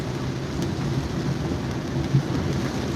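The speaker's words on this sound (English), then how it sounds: "it's raining heavily and there was water accumulation" Heavy monsoon rain pours down in India, a dense, steady roar of water hitting surfaces close by with no voices, constant throughout.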